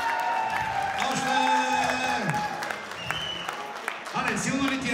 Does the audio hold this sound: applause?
yes